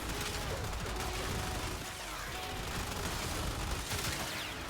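Secondary weapon firing in the Warframe shooter game, dense continuous gunfire and impacts filling the whole stretch at steady loudness.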